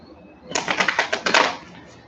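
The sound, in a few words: tarot cards being shuffled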